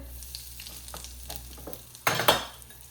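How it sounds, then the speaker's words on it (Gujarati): Mustard seeds, cumin and asafoetida dropped into hot oil for a tempering burst into a loud, crackling sizzle near the end, after a quieter stretch of low frying and stirring noise, with no talking. "હવે આપણે વઘાર કરીએ."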